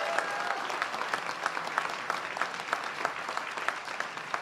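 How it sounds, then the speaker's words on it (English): Steady applause from a gathered audience fills a solar company's workspace at a political campaign event, dense clapping sustained throughout at moderate loudness with no talk over it. "let's give A&R Solar a big round of applause"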